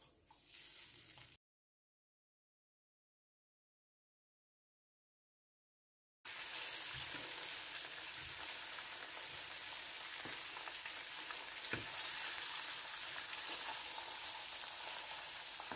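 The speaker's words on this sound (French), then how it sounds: "Je vais maintenant frire les poissons dans de l'huile" Fish frying in oil over medium heat, the fish dusted in flour, gives a steady broadband sizzle after a brief gap of silence, continuous and close with faint scattered pops.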